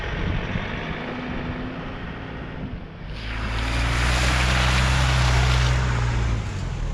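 Strong wind buffets the microphone on an open beach, a dense roaring rush that swells louder partway through, with engine rumble and surf mixed in and no talking.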